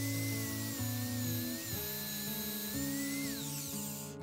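Wooden shingles being cut for a Japanese temple roof, a steady high-pitched powered cutting whine with shifting pitch throughout, close and continuous, no voices.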